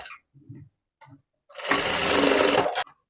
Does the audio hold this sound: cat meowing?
no